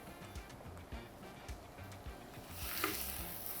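Yellow and red onions sizzle quietly in a pan under a low kitchen rumble, with the hiss growing brighter and louder toward the end.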